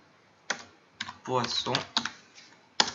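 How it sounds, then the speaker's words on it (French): Search typed on a computer keyboard, close and quiet, with scattered single key clicks followed by a quick burst of rapid tapping and a final sharp keystroke. "Et quand on tape des recherches, par exemple, on va taper poisson"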